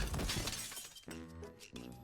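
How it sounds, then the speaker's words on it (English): A plate shatters as a character trips in the video game NIKKE: a sharp, loud breaking crash at the start that decays, followed by two brighter struck tones. "Soda tripped, shattering the plate that she was holding."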